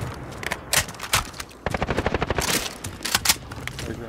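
Automatic gunfire in the shooter game Modern Warfare, bursts of rapid sharp shots interspersed with single cracks, fairly loud and close with short pauses between volleys.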